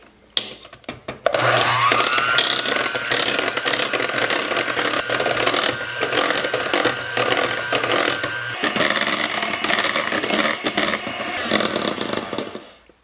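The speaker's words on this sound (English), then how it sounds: "Now I'll mix this until it forms a soft peak." An electric hand mixer whipping heavy cream with powdered sugar and vanilla, starting with a click and rising to a steady loud whirring whine that holds for about ten seconds, shifts slightly in pitch, then stops.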